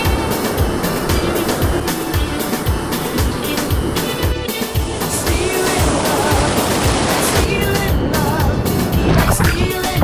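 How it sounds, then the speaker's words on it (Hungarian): Atlantic Ocean waves washing the eastern point of Guadeloupe, heard as a loud, continuous roar of surf and rushing water with no pauses and no voices. "A szigetnek ezt a csúcsát az Atlanti-óceán hullámai mossák."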